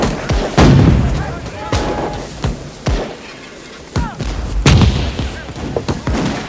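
Heavy gunfire and booming artillery during the siege of Fort Niagara, with loud, sharp shots and thuds at irregular intervals, mixed with shouting voices.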